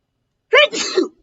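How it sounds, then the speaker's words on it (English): One sharp, close sneeze with a drawn-out explosive release, loud and isolated in an otherwise quiet moment. "that was the longest, most protracted sneeze ever"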